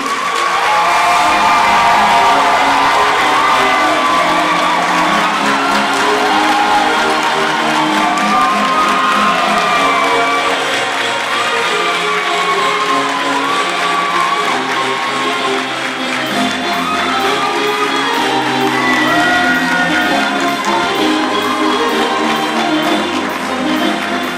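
Audience at a diploma graduation ceremony applauding for a long stretch, steady dense clapping with occasional cheers and whoops from the crowd, filling the hall throughout.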